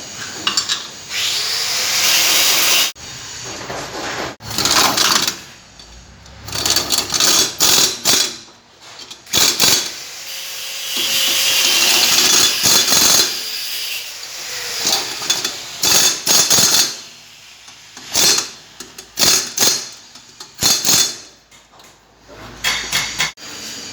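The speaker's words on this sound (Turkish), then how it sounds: "diğer lastiğin balans ayarı yapılıyor. Çevirdik makineyi." A wheel balancing machine in a tire shop spins a car tire during front-end work on a Fiat Doblo Safeline. It gives loud mechanical whirring and ratcheting clatter in bursts, with clanks and pauses between runs.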